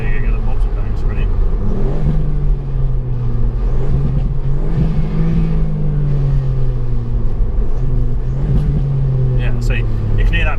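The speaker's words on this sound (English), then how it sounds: "so you can hear that popping and banging" A 2019 MK8 Ford Fiesta ST's engine revs rise and fall repeatedly over steady road rumble, with the exhaust crackling and popping between throttle blips; some talking comes through.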